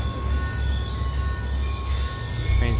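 A train rolls past in a Call of Duty Black Ops 2 scene, a heavy low rumble of wagons with steady clatter and thin high wheel squeals, fairly close and continuous, swelling slightly near the end.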